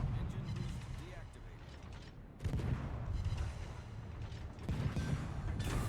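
Heavy naval gunfire roars in the World of Warships game as a ship's guns pound an enemy turret, dense rumbling blasts and mechanical clatter continuing throughout, with a sharp surge of firing about midway.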